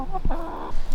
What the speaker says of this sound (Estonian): Väga ilusad kanad.